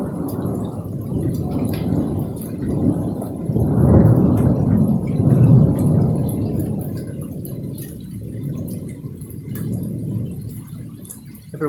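A violent thunderstorm over Phoenix: deep rolling thunder swells and fades over steady rain, with the rumble building to loud peaks in the middle and easing toward the end.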